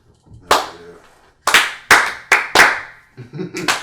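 Sharp, loud hand claps ring out close by, first one lone clap, then a quick irregular cluster of five or six, each with a brief echoing decay, and a voice murmurs between them.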